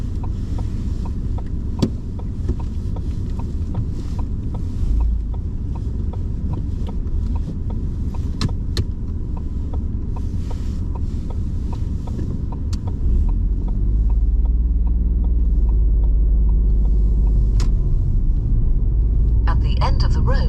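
Inside a car on a driving test, the engine rumbles steadily and deepens as the vehicle pulls away, with interior road noise and occasional clicks while an examiner talks.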